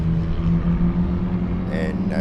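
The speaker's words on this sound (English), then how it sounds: "There's the pace car" A pace car circles the Sebring race track during an SCCA event, its engine a steady mid-distance drone that holds level for a couple of seconds.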